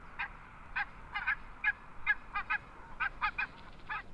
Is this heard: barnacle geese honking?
yes